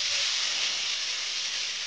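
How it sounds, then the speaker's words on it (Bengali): Chopped tomato and onion fry in butter and refined oil in a pan, giving a loud, steady hiss and sizzle throughout with no talking. "তো এটা ফ্রাই হতে থাক একটুক্ষণ।"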